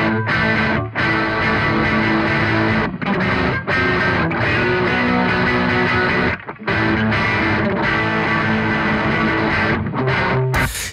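Electric guitar played through a Laney Ironheart amplifier on the Aurora DSP's blue LED D2 setting, an open, softly compressed distortion. Loud, sustained chords and riffs ring out with a few brief gaps between phrases.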